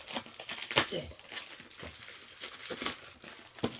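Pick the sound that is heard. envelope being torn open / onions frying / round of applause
envelope being torn open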